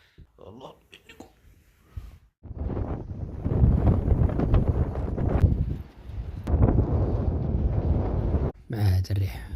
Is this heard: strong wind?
yes